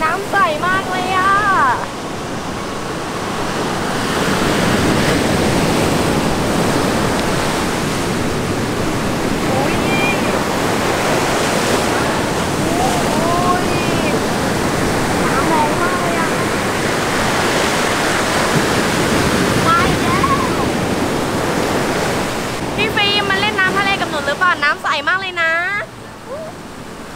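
Waves wash onto a beach beside clear seawater in a steady, full roar of surf that barely rises or falls. Voices come in near the end.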